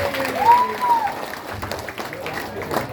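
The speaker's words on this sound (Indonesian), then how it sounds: "Tepuk tangan buat perempuan." Audience at a religious gathering with a comedian preacher claps for women, a moderate wash of applause mixed with voices and a rising shout.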